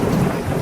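Thunder rumbling with steady rain falling, a brief low rolling roar over a continuous wash of rainfall, heard alone without voices.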